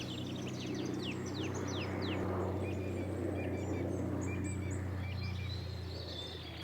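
Nightingales singing in Sussex in spring, a run of bright whistled phrases and rapid descending trills over a steady low background hum, moderately close and continuous throughout.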